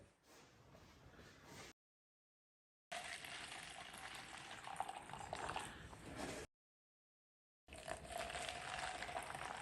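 Just-off-boiling water pours into a container to dissolve oxalic acid for lightening wood stains, a steady pouring rush in separate bursts broken by silent gaps.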